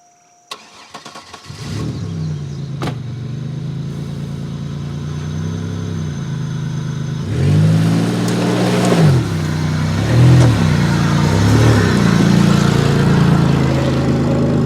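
An old Buick LeSabre that sat for three to four years cranks and catches, then idles roughly before revving harder in several surges as it pulls out, close and loud with no talking.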